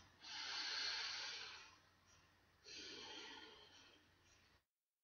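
Two deep breaths taken close to the microphone: a long, strong airy inhale followed by a softer exhale, then a second inhale and release, all in a quiet room.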